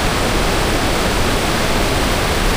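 Bagongbong Falls on Biliran Island roars with strong, fast-flowing water, a loud, dense, unbroken rush heard close by with no voices.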